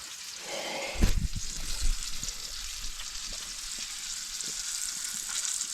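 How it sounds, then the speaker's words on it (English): Fish fillets, including scored rock bass, sizzle steadily in a hot pan on an off-grid homestead, with a louder crackling burst near the start that settles into a constant fry. "All right, we got her frying up here."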